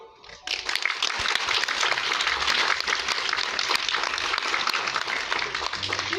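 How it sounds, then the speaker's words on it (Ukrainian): A crowd of residents at a school graduation celebration in Liubar gives a sustained ovation for the mayor and city architect, dense clapping starting abruptly and holding steady and loud throughout. "Подаруйте меру та архітектору міста овації"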